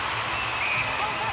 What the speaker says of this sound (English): Giants fans are cheering